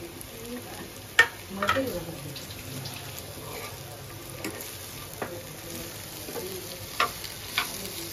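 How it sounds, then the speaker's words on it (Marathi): Chilli, onion and ginger-garlic paste frying in a pan, a faint, steady sizzle broken by a few sharp clinks and spatters, close and quiet. "आपल्या मिरच्या आणि कांदा आणि अद्रक लसूण मिरचीची पेस्ट झालेली आहे तळून"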